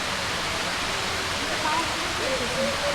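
Waterfall at Cherrapunji roaring as a steady, broad wash of falling water, close and continuous, with a faint voice or two audible underneath.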